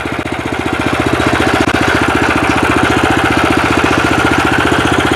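A 16 hp walk-behind tractor engine runs steadily and loudly up close, its rapid even chugging firing pulses continuing without a break and no voices over it.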